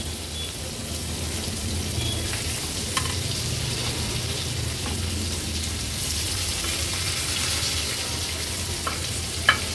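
Pieces of fish fry in a pan over a low to medium flame, a steady close sizzle and crackle running continuously with a few faint clicks and no talking.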